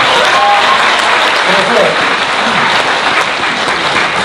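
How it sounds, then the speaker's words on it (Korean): Audience applause at a talk-show book concert, steady dense clapping filling the whole stretch at high level, loud and close. "여러분들 박수 쳐주니까 기분 좋네요"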